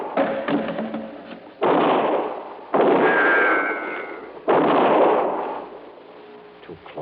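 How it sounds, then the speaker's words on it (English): Three heavy bursts of gunfire ring out in an old-time radio detective drama, each a loud sudden blast with a long rough decay, spaced a second or two apart in a dramatized shootout. "your last shot, wasn't it, Frankie?"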